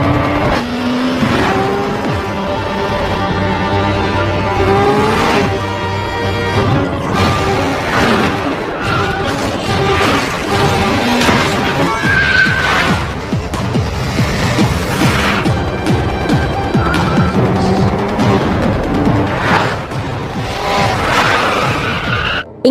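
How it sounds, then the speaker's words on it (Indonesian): A car chase ending in a crash in a film: continuous loud engine roar with tire squeals and crunching, smashing impacts across the scene, with no talk. "Hingga akhirnya mobil mereka tabrakan dan Kang Kyung yang berhasil kabur lagi."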